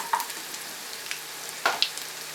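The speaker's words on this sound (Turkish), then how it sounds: "Soğanlarım iyice kavruldu." Onions and vermicelli frying in a pan give a soft, steady sizzle close by, with a few faint stirring clicks over the hiss and no talking.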